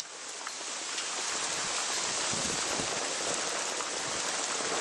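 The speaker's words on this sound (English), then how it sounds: "Holy crap, we got a lot of hail here." Heavy hail coming down in a severe July thunderstorm, a broad roaring patter that swells within the first second and then holds as a constant close wash of impacts, with no talking.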